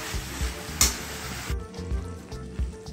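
Long beans, potato and shrimp sautéing in a pan, a soft sizzle under repeated rhythmic spatula knocks and scrapes against the pan, the hiss dropping away halfway through, no one speaking.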